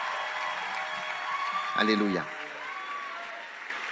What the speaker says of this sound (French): Applaudissez pour Jésus.